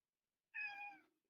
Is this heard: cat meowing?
yes